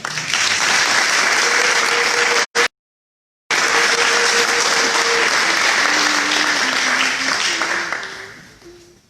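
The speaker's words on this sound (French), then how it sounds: "on peut les acclamer" Sustained applause from a church congregation for the white-robed choir at a Sunday mass installing a new parish priest, a full steady clapping with a brief cut, then fading out at the end.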